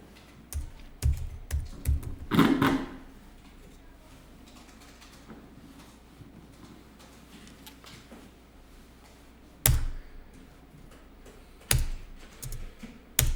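Computer keyboard typing during accounting data entry, including a press of the Tab key, sparse clusters of clicking keystrokes with long quiet gaps between them, close and moderately loud.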